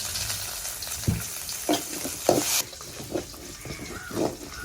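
Crushed ginger and garlic, small shallots, curry leaves and asafoetida sauté in a pan for a Kollam-style clam thoran. A soft, steady sizzle runs close by, broken by several scraping stirs of a spoon against the pan.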